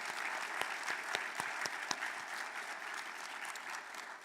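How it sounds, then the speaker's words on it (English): Sustained audience applause at a Clemson Martin Luther King Jr. Day event, dense steady clapping from a large crowd with a few sharper individual claps standing out, no talk over it. "let's give another round of applause for everyone that participated in this program"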